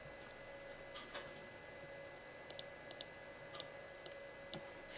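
Sparse, light keystrokes on a computer keyboard while working in Dreamweaver, a handful of soft taps and clicks over a constant low hum.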